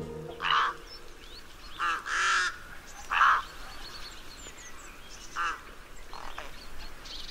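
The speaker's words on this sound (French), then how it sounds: "Ce que vous entendez, ce sont des cris, des bavardages de corbeaux freux." Harsh, croaking caws from rooks, a handful of separate calls spaced irregularly, with softer chattering in between over an outdoor background.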